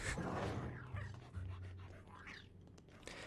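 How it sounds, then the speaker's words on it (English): Dog panting in a Halloween-streamed video game, quick rhythmic breathy huffs repeating steadily at a close but soft level, with faint whimpering tones underneath. "This stupid dog."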